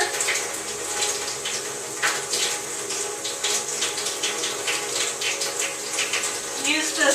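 Running water pours steadily into a sink while hands scrub against each other beneath the stream, a continuous wet splashing and rubbing with no voice over it.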